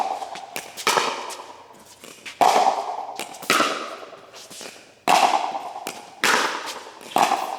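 Pickleball paddles, Vatic Pro models, strike the ball during drive shots, making sharp hollow pops in a steady back-and-forth rally, each hit ringing briefly before the next.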